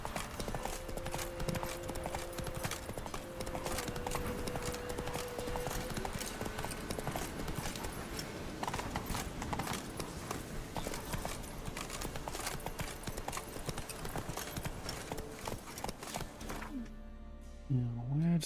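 A horse gallops in The Witcher 3, its rapid clip-clop hoofbeats loud and continuous over background game music, easing to a stop near the end.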